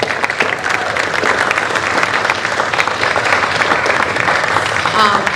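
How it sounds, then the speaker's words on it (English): A crowd applauds steadily at a school spring concert, with dense, even clapping that stays loud and continuous throughout. "give them a round of applause."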